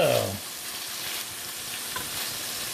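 A prime rib bacon burger fries in an enameled cast iron skillet, a steady close sizzle following a brief metallic clang at the start, with a faint knock partway through.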